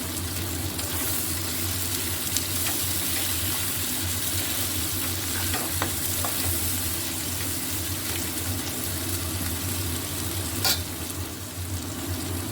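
Onion and capsicum sizzle steadily in a hot pan for a winter vegetable dish, a dense continuous frying hiss with occasional light clicks of stirring, close and loud with no talking.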